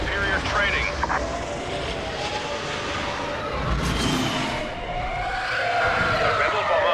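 Rebel bomber aircraft in Star Wars Battlefront Walker Assault, a loud sustained engine roar with a rising whoosh midway, over dense battle noise and game voices.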